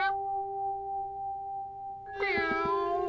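A cartoon cat meowing in upset protest at bath time, a long sustained tonal wail followed by a louder, harsher yowling burst at the end.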